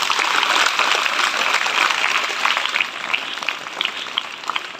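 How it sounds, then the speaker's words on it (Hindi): Applause from a school audience at a government school session on the Aditya L1 launch, steady dense clapping for about five seconds, fairly loud and close, with no talk over it. "अगर जानकारी अच्छी लगी हुई तो एक बार जरा जोर से तालियां बजाएं"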